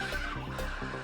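A pixelated horse in the video game Cyberpunk 2077 gives a short, faint, fluttering whinny, heard alone with no talking.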